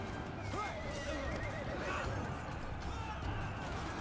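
Horses neigh and whinny amid a Three Kingdoms video game cavalry battle, with galloping hoofbeats and a busy clash of fighting beneath, the loud neighs rising clearly over the continuous din.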